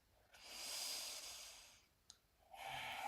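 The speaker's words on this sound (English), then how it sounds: "Long deep breathing." A long, slow, deep breath during a yoga class: an extended airy exhale, then a brief catch and a fresh breath starting, soft and close, with no talking.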